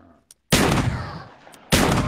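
Two loud Olympia shotgun blasts in a Call of Duty Zombies game, one sharp boom followed by a decaying tail, then a second blast over a second later.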